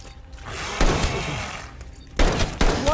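Gunfire from Call of Duty Cold War's zombies mode, with a few sharp, loud bursts of shots breaking through a steady game background, the heaviest blasts arriving in quick clusters near the end.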